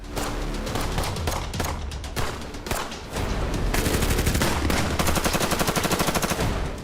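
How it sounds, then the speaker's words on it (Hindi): Sustained bursts of automatic gunfire, dense and continuous, with a rapid rhythmic machine-gun rattle in the second half, recorded on a dangerous route in the Parachinar-to-Kabul region; no voices present. "जैसे गोलियां चल रही थीं"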